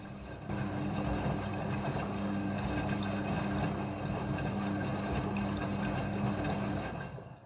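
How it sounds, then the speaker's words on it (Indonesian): A Midea front-loading washing machine washing jeans gives a steady, continuous churning drone with a low hum and sloshing water, running unbroken at an even level for several seconds. "Mesin cuci front loading sudah full automatic dalam mencuci"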